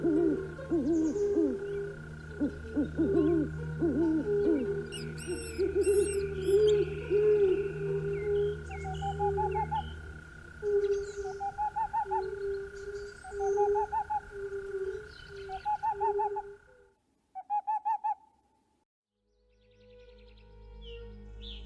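An owl in the Amazon rainforest gives repeated deep hoots, a rhythmic series of low calls over a steady forest hum, with other bird calls and chirps scattered around it before a brief quiet gap.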